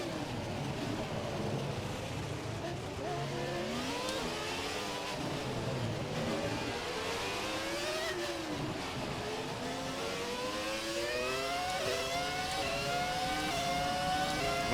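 A Red Bull RB6 Formula 1 car in the F1 2017 video game accelerating hard through Monaco, its engine pitch sweeping up repeatedly through the gears, loud and continuous with no talk over it.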